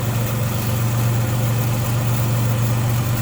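A Dodge Charger engine idling smoothly and quietly at close range, a steady low hum with constant loudness and no voices.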